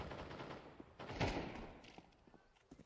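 Gunfire in a Counter-Strike match during a competitive esports playoff, a burst of shots mid-clip amid game ambience, heard without talk.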